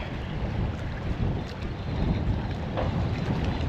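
Steady wind gusting outdoors on open water during a fishing outing, buffeting the microphone with a constant broadband rush and low rumble, with no talk.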